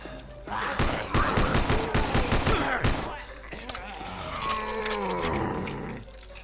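Pistol fire in the Land of the Dead zombie video game, a quick series of loud close shots followed by rougher roaring game noise.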